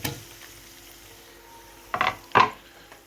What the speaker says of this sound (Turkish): Karıştırıyoruz. Tahta kaşıkla.